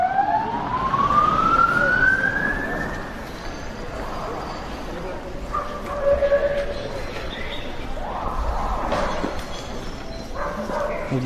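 A police car siren wails and rises in pitch at a street protest with a burning barricade, loud at first and then continuing at a distance. A dog barks and people talk and shout in the background.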